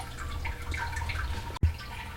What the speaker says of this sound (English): there's a drain here underneath where the water flows back into the fish tank